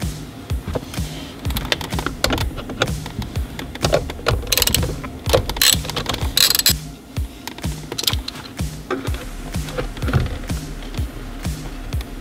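Ratchet clicks and metallic rattles come from removing 10 mm airbag bolts on a Mazda RX8 steering wheel: quick bursts of close ratcheting, irregular and moderately loud, with small clanks of the tool, and no speech.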